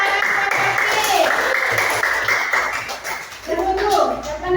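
Schoolchildren clap in a classroom in short, uneven bursts of tapping, close and moderately loud, while a teacher's voice talks over them.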